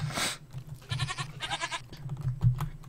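A goat cries out in a video game as a player rejoins a multiplayer server: a few loud, wavering bleats in quick succession, with no talking.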